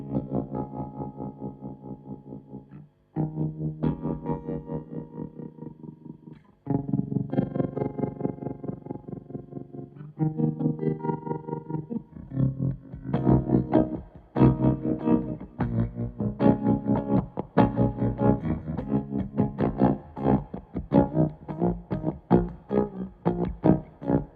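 Electric guitar chords through a Stone Deaf Tremotron dual tremolo pedal, a heavy, layered tremolo chopping the sound into uneven throbbing stutters, played alone and fairly loud throughout.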